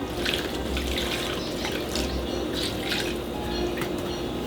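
Water pours steadily from a tap into a pot for beef curry, a continuous close splashing rush with no talk.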